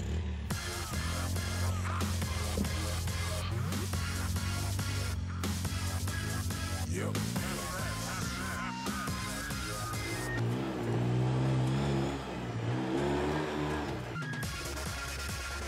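A Polaris ATV with automatic gearbox drives and accelerates, its engine droning loud and steady with rising and falling pitch as throttle changes, close up and continuous without talk.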